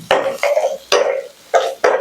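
Green chillies and curry leaves going into a cooking pan, a run of about five sharp metallic clinks and short sizzling clatters, close and loud, spaced unevenly over two seconds.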